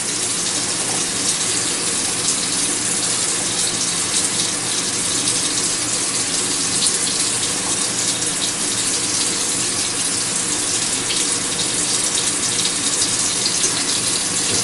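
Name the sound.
water running from a tap into a bowl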